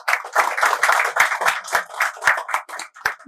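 A crowd applauds at a prize ceremony for a 2024 home Ganpati decoration contest, with close, lively hand claps rising and falling in waves for about three seconds and no talking.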